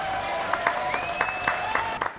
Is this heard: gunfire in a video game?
no